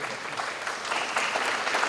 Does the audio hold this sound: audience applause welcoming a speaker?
yes